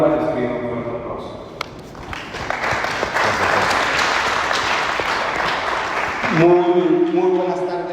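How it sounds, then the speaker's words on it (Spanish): An audience claps loudly for a speaker at a talk on Mexican communism, a sustained burst of applause that rises and fades, with voices talking over it before and after. "les pido un fuerte aplauso"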